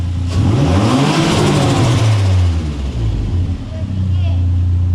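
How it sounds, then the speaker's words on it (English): A turbocharged Nissan 350Z engine revs up and holds at a high, rising pitch, then settles back, loud and close, with a voice speaking briefly over it. "Let me rev it again and show you what it does"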